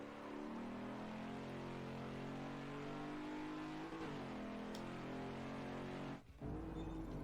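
A Ford Mustang Mach 1 engine drones steadily on the track at Watkins Glen, heard from inside as a loud sustained roar with small throttle changes and a brief dip near the end.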